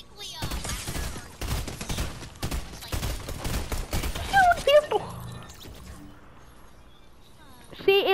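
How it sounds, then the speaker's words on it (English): Rapid bursts of gunfire from a player in Fortnite shooting continuously without reloading, a dense run of sharp cracks that thins into scattered shots and game effects, with people talking over it. "he just kept shooting without reloading"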